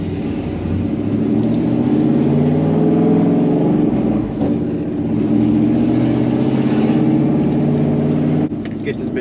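A 2001 Chevrolet Silverado V8 pickup with a five-speed manual pulls away in first gear, its engine a steady droning growl heard from inside the cab for several seconds, with a voice speaking over it.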